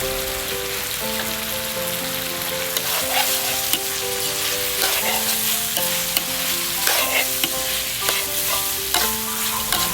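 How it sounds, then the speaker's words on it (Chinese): Black pepper squid with scallions stir-fried in a hot wok, a steady loud sizzle with repeated scraping and stirring clatter throughout, no voices. "炒的差不多了就放入我们10克的葱"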